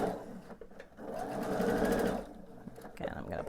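A sewing machine stitches across pieced fabric for a quilt and runs in one steady whirring burst of about a second and a half. Short handling noises come before and after the burst, and someone speaks quietly nearby.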